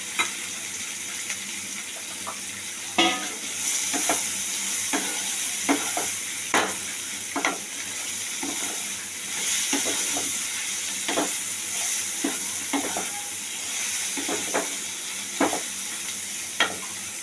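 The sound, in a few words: potatoes and eggplant frying in a pan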